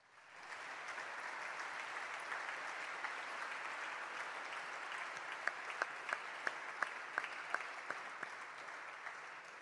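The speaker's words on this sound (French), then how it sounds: "je crois qu'on peut vraiment les applaudir" Audience applause at a ceremony marking 35 years of a children's rights ombudsman, swelling quickly into dense, sustained clapping with a few sharper individual claps standing out near the end.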